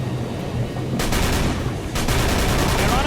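Gunshots in Call of Cthulhu: Dark Corners of the Earth, loud rapid fire in two sharp bursts over a dense, noisy background during a tense chase.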